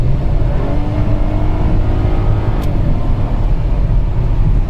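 2008 Cadillac SRX with a 3.6L V6 and a misfire, engine running loud and steady close by with a sustained rev, no talking.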